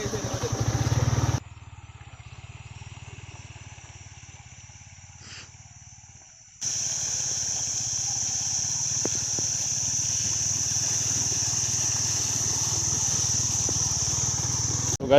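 A motorbike rumbles along a jungle off-road trail through a water crossing, its engine a low steady drone with a bright hiss on top. It dips quieter for a few seconds, then returns close and constant.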